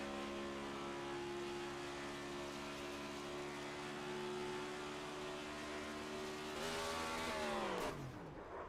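Onboard a Next-Gen Cup Series race car at Las Vegas Motor Speedway, a loud, steady engine drone holds pitch, then surges and drops sharply as the driver downshifts, with no talk.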